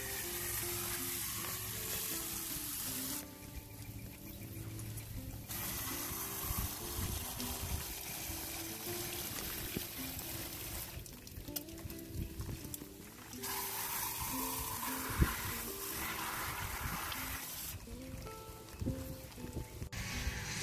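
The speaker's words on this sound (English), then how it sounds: "So next step is to water it in well to remove any air bubbles." Water pours from a watering can or hose onto a newly planted rose in garden soil with compost around it, a steady close splashing and trickling with brief pauses as the flow stops and starts.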